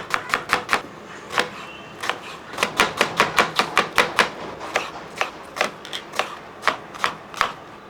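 A knife chops food on a cutting board for an egg dish in quick, even strokes, about two dozen sharp close taps in a steady rhythm with a brief pause midway. No one speaks.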